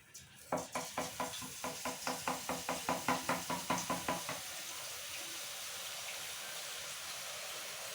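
Boondi batter dripping into hot oil: a quick run of about fifteen evenly spaced taps and splashes, then a steady, fairly quiet frying sizzle alone with no talk.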